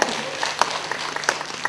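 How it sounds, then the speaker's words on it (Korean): An audience member, a father in a Korean lecture hall, claps during a talk; short scattered claps and crowd noise fill a brief, moderately quiet stretch. "우리 아버님 박수하고 계세요"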